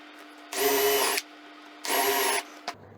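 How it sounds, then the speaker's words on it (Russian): A power drill fitted with a 6 mm bit bores into a wooden sushi stick in two loud, even bursts of whining spin, each lasting under a second, separated by a quiet pause and followed by a small click. "это шестерка сверло у меня, оно подходит под размер нашей палочки от суши. И просверливаю."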